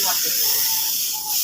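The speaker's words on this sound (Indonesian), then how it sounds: "ini kita semproti saja semuanya warna backdropnya ini" Steady, loud hiss of a paint spray gun recoating faded motorcycle body panels at a roadside, running unbroken through the whole moment with faint voice-like tones beneath it.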